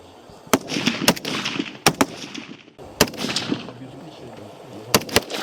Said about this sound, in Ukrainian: Увага! Десять пострілів одиночними по готовності. Вогонь, вогонь!